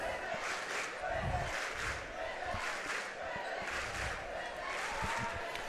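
A big crowd of Ellington Whippets fans cheers and yells at a girls basketball quarterfinal in a gym, a steady roar with ball bounces and an announcer talking over it.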